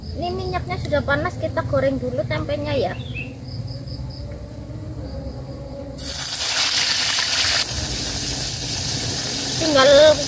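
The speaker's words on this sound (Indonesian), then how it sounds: "Sudah panas, kita goreng dulu tempenya ya." Tempe pieces frying in hot oil in a home kitchen, a bright steady sizzle that jumps louder partway through as more goes into the pan, with someone talking over it at times.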